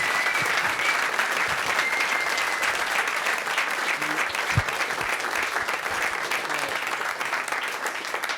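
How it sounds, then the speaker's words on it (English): A room full of people applauds coding bootcamp graduates at a London demo event, a thick, sustained wash of clapping with a few whoops and voices mixed in, holding steady throughout. "So you deserve a big round of applause,"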